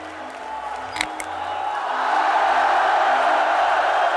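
A massive crowd at a political convention speech roars with cheering and applause, the noise building from a murmur into a loud, sustained wall of sound, with a couple of sharp shouts near the start.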